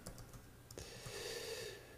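A few quick, quiet keystrokes on a computer keyboard while entering a web address, close but faint, followed by a soft low hiss.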